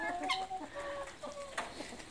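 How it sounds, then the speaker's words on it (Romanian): A white rooster crows close by, a short strained call with a few clucks around it. "Ia uitați cum cântă cocoșul alb."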